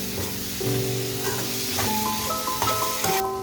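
Duck roast masala sizzles in a pan while being stirred, making a close, continuous frying hiss with soft scraping under a tonal background.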